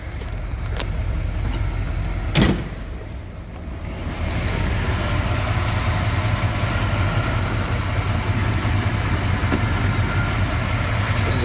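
A numbers-matching 1976 Chevrolet Corvette coupe with a 350 V8 idles at around 600 to 700 RPM, a steady low rumble heard from fairly close, joined by a brief sharp knock early on, with no talking.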